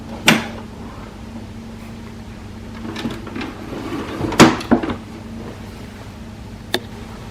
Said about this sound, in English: Open up the ink access door.